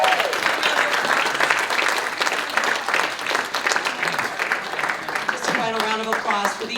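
Crowd at a California progressive caucus meeting of Occupy protesters breaks into sustained applause and cheering, a dense steady clapping roar with voices calling out over it toward the end.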